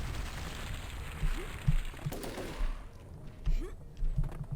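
Gunfire in the Turok 3 Remastered video game: a few sharp shots crack out at uneven intervals over a dense, rumbling game background.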